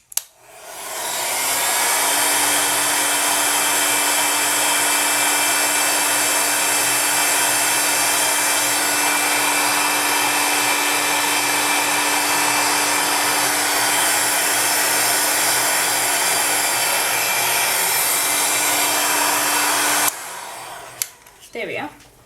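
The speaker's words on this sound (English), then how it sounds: "I'm going to bring over the heat gun" A heat gun blows steadily and loudly for about twenty seconds while warming polymer clay for a faux amber and bone necklace, with a constant airy roar and a faint hum, then clicks off near the end.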